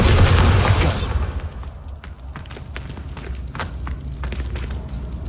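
A Bombarda explosion spell in Hogwarts Legacy opens as a loud, broad blast that fades after about a second into lighter thumps, footsteps and scattered clatter.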